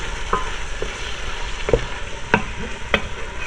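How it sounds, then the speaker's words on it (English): Concentrated tomato gets stirred into a Persian beef and split pea stew over high heat: a constant bubbling sizzle broken by a few sharp spoon taps against the pot. "I'm going to mix that around, still on the high heat"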